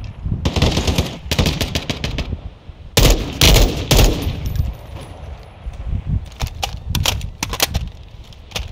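Gunfire rattles in Call of Duty Modern Warfare 2 Resurgence. Loud automatic bursts and sharp single shots come in clusters separated by short gaps, with a few quieter distant pops.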